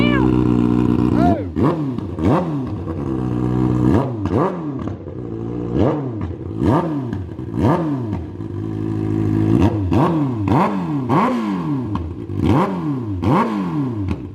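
2024 Kawasaki ZX-6R sportbike with a drilled-out catalytic converter, engine revved hard again and again in sharp rising-and-falling bursts over a steady idle, loud and close, with some talk in between.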